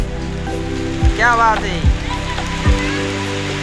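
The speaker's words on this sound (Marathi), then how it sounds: "पाऊस पडायला लागला" Steady patter of rain falling on a riverside in a forest, with people talking over it throughout.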